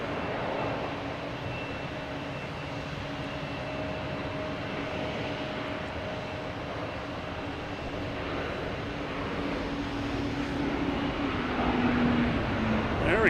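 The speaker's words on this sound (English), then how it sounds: "We'll get Lufthansa taking off" Lufthansa airliner taking off at Boston Logan Airport, a continuous broad jet engine roar heard from a distance, steady and building slightly louder toward the end.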